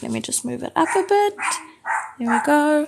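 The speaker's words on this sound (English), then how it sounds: "Sorry about the dog barking as well." A dog barks close by in a few sharp bursts mixed with a whining yip, loud and overlapping a person who keeps talking throughout.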